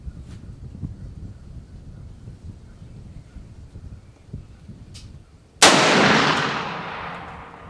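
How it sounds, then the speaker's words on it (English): A single sharp rifle shot cracks out at a target outdoors, loud and close, its echo trailing off for a couple of seconds after a stretch of wind and quiet handling noise. "I'm going to shoot about 5 rounds"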